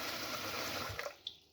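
Water pours steadily into a pot for steaming suruttu appam, a continuous rushing splash that tapers off into a couple of small drips and clinks, close and fairly quiet, with no talk.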